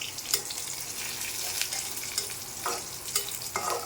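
Onions fry in a pan of oil with cumin seeds and a bay leaf, a steady close sizzle broken by a few sharp stirring scrapes of the spatula.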